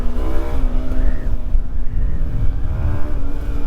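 Yamaha R25 motorcycle engine revving hard at high rpm, a loud, close, buzzing whine that rises and falls in pulses without pulling away.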